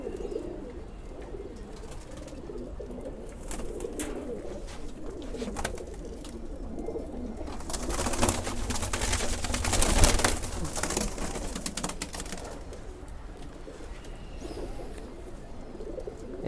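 Pigeons in their cage keep up a continuous low cooing, close and steady, while a stretch of louder rushing noise swells midway and then fades; no one speaks.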